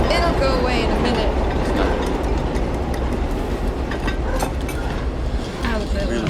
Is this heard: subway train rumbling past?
yes